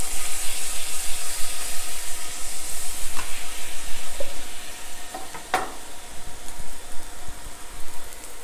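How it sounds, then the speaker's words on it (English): Garlic sizzles in browned butter in a pan, a steady close crackle broken by a few sharp stirring scrapes and clinks, with no voices. "I like my butter for this recipe, for the butter to be a little brown."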